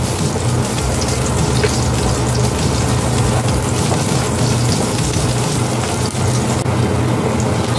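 Garlic sizzles in hot oil with a loud, dense, continuous hiss and crackle, close up and unbroken for several seconds.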